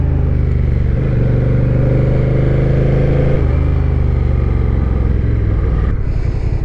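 Close, loud engine note from a Honda Rebel with DCT, riding along with a steady drone that shifts pitch as it changes gear and speed, with wind rush on top.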